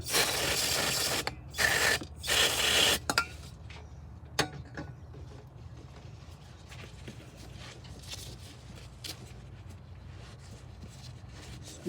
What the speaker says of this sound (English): Screwdriver, just gently cleaning, scrape off on the side here.